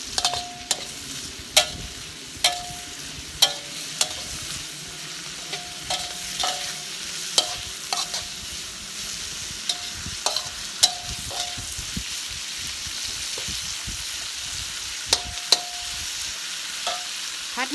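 Ingredients for a salted mackerel dish being stirred and fried in a pan, a continuous close sizzle with frequent metallic scrapes and clinks of a spatula in an irregular rhythm, no talking.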